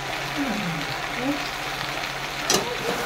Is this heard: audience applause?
no